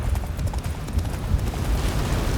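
Roach, the horse from The Witcher 3, gallops hard through a snowy blizzard, a steady fast clip-clop of hooves running loud and continuous over a low rumbling wind bed.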